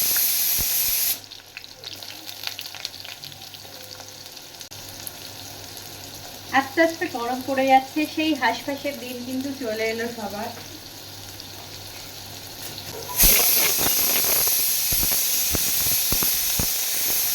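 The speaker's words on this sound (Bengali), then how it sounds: "কুমড়ো আলুটা একটু ভাজা ভাজা হয়ে গেছে।" Pumpkin and potato pieces frying in a pan over a five-spice tempering. A low sizzle runs beneath a speaking voice, then swells into a louder, continuous frying hiss with stirring scrapes near the end.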